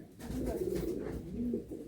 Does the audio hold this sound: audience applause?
no